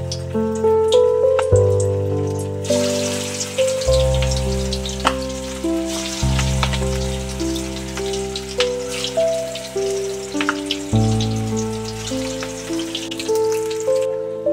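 Pieces of colocasia (arbi) leaf frying in hot oil, a steady close crackling sizzle with scattered pops that carries on throughout, under background music.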